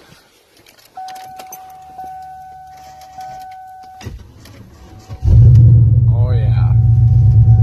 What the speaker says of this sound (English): Let's see if the Cadillac will start.